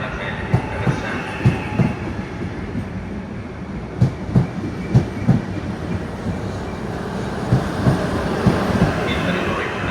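Trenitalia regional train pulling into Venezia Mestre station, with a low rumble and repeated clacks of wheels over rail joints, a loud, rhythmic run of impacts that eases into a steady rolling noise.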